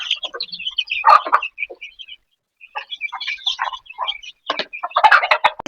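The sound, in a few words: chicks chirping while being fed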